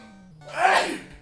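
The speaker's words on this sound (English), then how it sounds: "I keep thinking I'm about to sneeze, man." A single sneeze bursts out after a quiet lead-in, a loud broadband blast that peaks and fades within about half a second, heard close and alone, from someone playing a Final Fantasy NES game.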